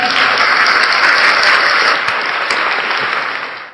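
Loud, dense applause of many hands clapping steadily close to the listener, a sustained burst that tapers off sharply at the end.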